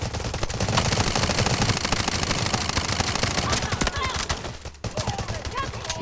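Rapid automatic gunfire fills a Delta Force video game match in dense, sustained bursts, loud and close, with a short pause near the end before the shooting resumes.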